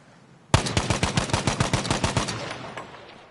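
A machine gun fires a rapid burst of about fifteen evenly spaced loud shots in Battlefield V, with the rapid fire mod switched off, before the reverberation fades into silence.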